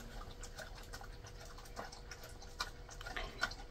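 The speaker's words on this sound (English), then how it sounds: "The noise you hear in the background is Toby drinking water." A dog laps water in an RV, a soft, rapid wet clicking that runs steadily in the background under a low hum, faint and close.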